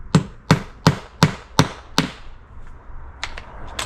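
A hammer drives a nail into a wooden deck ledger board, six sharp, evenly spaced strikes close by, followed by a few lighter taps.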